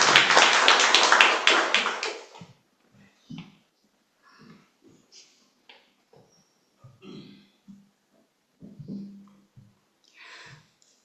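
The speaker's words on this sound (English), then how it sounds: "they all deserve a big round of applause" A church congregation at a Scholarship Sunday service gives a round of applause: a burst of many hands clapping fades out within about two seconds, followed by scattered faint bumps and rustles in a quiet room.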